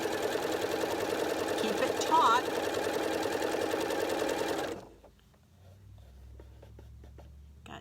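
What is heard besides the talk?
sewing machine sewing a dart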